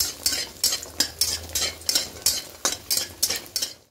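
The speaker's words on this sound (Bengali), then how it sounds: "বড়িগুলো একটু লাল লাল করে ভেজে নেব" Lentil dumplings (bori) fry in oil while a utensil scrapes the pan in quick, regular strokes, about three or four per second. The scraping is close and rhythmic over a soft sizzle.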